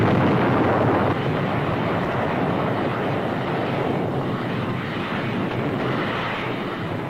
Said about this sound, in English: observed the Fifth Fleet's terrific bombardment of Okinawa